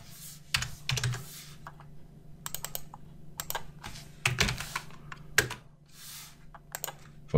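Keyboard typing at a computer while working in Excel, with bursts of key clicks and short pauses between them, fairly close and clear, with a low steady hum underneath.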